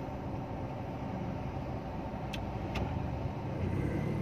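Heavy street traffic fills the air with a continuous low rumble of cars idling and creeping along, fairly faint and distant, broken by two short sharp clicks.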